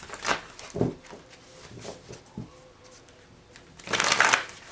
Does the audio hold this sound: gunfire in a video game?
no